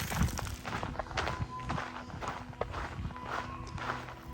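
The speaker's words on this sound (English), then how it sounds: "All I hear are footsteps that were my own." Footsteps crunch on the trail while hiking alone at Pai Canyon in northern Thailand, a close, irregular series of soft thuds and scuffs at a walking pace, with no talk and little else around them.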